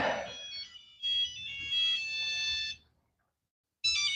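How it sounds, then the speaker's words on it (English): A phone ringtone plays a bright, warbling electronic melody in short bursts, with a brief silence before it starts again. "you hear my cool ringtone?"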